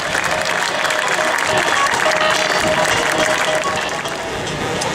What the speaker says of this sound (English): Let's give a round of applause for all the Golden Knights here today